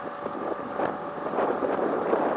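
A Basstender 11.3 boat with a 10 horsepower outboard motor runs across the water in strong wind, giving a steady engine drone mixed with wind buffeting the microphone.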